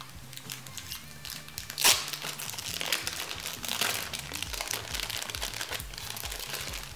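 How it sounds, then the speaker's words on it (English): Plastic packaging around an acrylic stand crinkles and crackles close up, with one sharp tearing snap early on, then continuous rustling handling for several seconds. "I'm gonna go ahead and unwrap"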